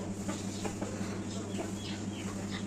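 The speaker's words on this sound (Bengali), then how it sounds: "ওই যে মুরগিগুলা বেরোইতেছে" Village chickens cluck softly at a distance, short scattered clucks over a low steady background hum, with no talking.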